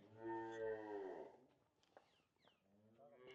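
At a cow sale at a Pakistani dairy farm, a cow lets out one long, close, drawn-out moo, followed by quieter livestock shuffling and a few faint voices.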